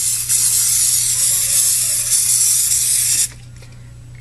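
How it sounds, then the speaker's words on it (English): A can of spray adhesive hisses in one continuous, close, loud burst for about three seconds during a scrapbook album craft session, then cuts off abruptly. "this spray adhesive is no joke"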